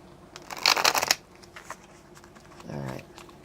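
Tarot cards are shuffled close by, a brief burst of quick riffling clicks followed by a softer bridging flutter a moment later.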